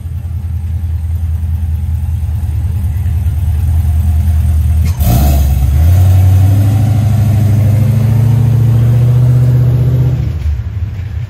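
A Chevrolet Monte Carlo SS Aero Coupe idles loudly up close, then after a sharp bang the V8 revs up and holds a raised, rising drone for several seconds before dropping back off.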